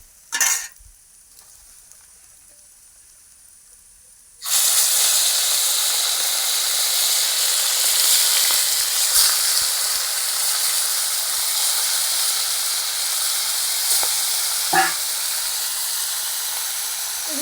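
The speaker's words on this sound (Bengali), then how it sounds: "কড়া করে বাদ বাকিগুলো আবার দিয়ে দেবো তেলে" Tilapia pieces frying in hot oil: after a brief clatter and a quiet pause, a loud, steady, hissing sizzle starts abruptly and continues evenly, with faint utensil clinks now and then.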